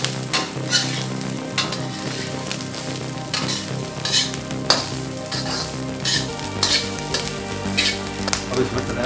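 Egg fried rice being stirred and tossed in a hot pan, a continuous sizzle broken by repeated scraping and clanking of the utensil against the metal, close and fairly loud with no talking.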